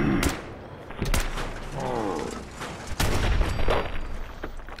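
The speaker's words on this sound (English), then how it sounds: "firing at a mercenary's head" Gunfire aimed at a mercenary in the Fallout 4 video game: several sharp, loud shots at uneven intervals, with game mechanism clatter and background sound between them and no talk.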